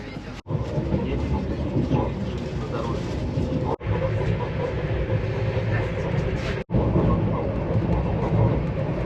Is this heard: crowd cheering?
no